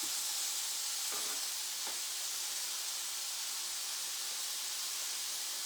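Salted and peppered onions sizzle quietly in a pan, a soft even hiss with a couple of faint clicks early on, steady and low throughout.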